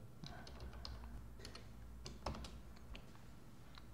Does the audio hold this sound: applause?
no